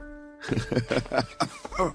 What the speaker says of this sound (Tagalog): Inuubo na po kayo.